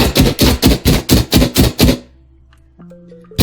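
Rapid automatic gunfire from a first-person shooter built in Dreams on PS4: about nine loud, evenly spaced shots in a quick burst that stops abruptly, followed by a quiet tail with faint electronic tones.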